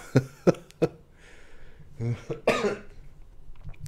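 Three sharp coughs in quick succession, close up, followed by throat clearing and a short burst of speech.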